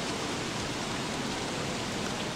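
Rain falls steadily in Don't Starve, a dense, even hiss of downpour that stays constant with no other sounds or voices.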